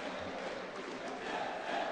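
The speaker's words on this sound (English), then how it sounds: "they're finding their voice now, trying to urge on their team" The home crowd roars steadily at a women's Euroleague basketball playoff game, a dense sustained wash of voices with no clear breaks.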